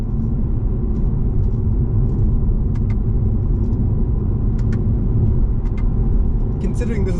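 A BMW 320d xDrive (G20) with an eight-speed automatic pulls forward in manual mode, its diesel engine giving a steady, loud low rumble from inside the cabin, with a few faint clicks.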